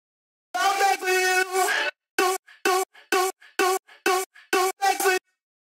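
Drum hits run through a distortion, chorus and compressor effects chain for a remix, first as a sustained harmonic-rich burst and then as a rhythmic series of short, punchy chopped stabs, loud and close with no talking.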